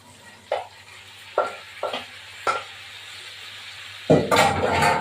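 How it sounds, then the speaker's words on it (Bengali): Young jackfruit going into a pan of frying potatoes, with several separate stirring scrapes followed by a loud, steady sizzle near the end. "এবার ইঁচড়গুলো ভাজা ভাজার মধ্যে বসিয়ে দিয়ে দেবো"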